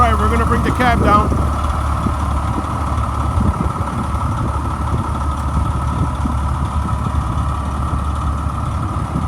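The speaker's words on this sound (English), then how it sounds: "All right, we're gonna bring the cab down." Diesel engine of a 1998 Pierce Quantum fire truck idling steadily and loud throughout as the tilted cab is lowered, with a brief burst of voices near the start.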